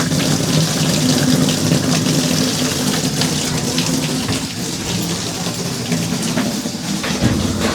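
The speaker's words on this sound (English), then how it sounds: "Run the hot water some more." Hot water runs steadily from a tap into a clogged laundry sink during drain snaking, a loud continuous splashing rush that eases slightly partway through, with no talk.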